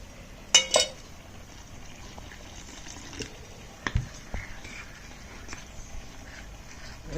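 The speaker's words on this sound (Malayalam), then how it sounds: "ആവശ്യത്തിന് വെള്ളമൊഴിച്ച് ബാറ്റർ നന്നായിട്ട് ഇളക്കുക" Water poured into maida and cornflour batter and stirred in a bowl, faint liquid and light scraping sounds with a few sharp utensil knocks, quiet and close.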